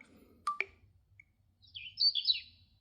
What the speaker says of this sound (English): And birds, they'll trip me out every time I hear the bird.